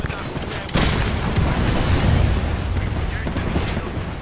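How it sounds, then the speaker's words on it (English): Knuckle cluster explosions in the shooter game Apex Legends, a sudden loud blast followed by a dense, sustained roll of rapid bursts and crackling detonations, with faint voice chat underneath. "Stand back, knuckle clusters firing."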